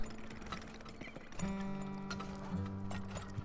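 Horse hooves clip-clop in the mining game Turmoil, a steady, moderately loud clatter of game sound effects that thickens partway through as more steady tones join in.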